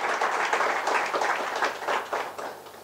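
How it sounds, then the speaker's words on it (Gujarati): An audience at a GST law lecture applauds to welcome the speaker, a dense crowd of hand claps sustained throughout, fading slightly toward the end. "આપણે ખૂબ જ તાળીઓથી એમનું સ્વાગત કરીએ."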